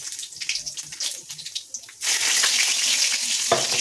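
Dried red chillies and sugar hit hot oil for a biryani base, a loud steady sizzle surging up abruptly partway through after quieter clinks and stirring, close and continuous with no talk.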